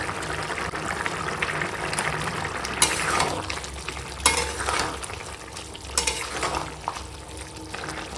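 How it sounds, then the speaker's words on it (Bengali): A pot of raw katla fish curry simmers and bubbles steadily on the stove, with a few sharper clinks of a spoon against the pan. No voices. "কাঁচা মাছের ঝোলটা রান্না হচ্ছে আর দেখো একদম টকটক করে ফুটছে ঝোল"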